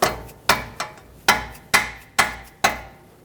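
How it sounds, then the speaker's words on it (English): A rubber mallet strikes a wrench on the front control arm of a 2009-2019 Ford Flex: seven sharp, fairly loud taps at an uneven, roughly half-second rhythm, each ringing off quickly, with no talking. "you can take a rubber mallet and tap that wrench like I said earlier"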